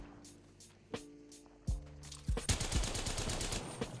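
Rapid gunfire from an Apex Legends match, several sharp shots in quick succession building into a dense burst of fire, with in-game ambience and footsteps underneath.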